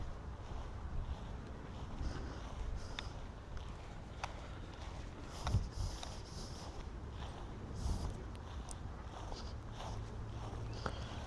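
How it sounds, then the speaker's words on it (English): Strong, gusty wind buffets the microphone in a London suburban neighbourhood, a constant low rumble with sharper gust bursts swelling and fading every few seconds. "wind's a bit too strong"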